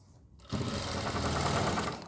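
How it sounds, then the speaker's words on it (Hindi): An electric sewing machine starts after a brief quiet moment and runs in a fast, even, continuous hum while stitching a cloth kitchen apron, close and loud, with no talk. "यहाँ लगानी है इस पर सिलाई"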